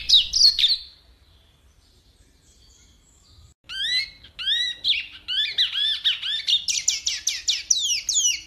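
Rusty-collared seedeater song: a brief burst of high chirps, a pause, then a run of bright, rapid, whistled and trilled phrases that grows busier and more continuous toward the end, clear and close against a quiet background.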